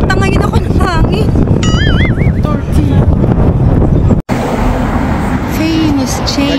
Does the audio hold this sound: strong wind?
yes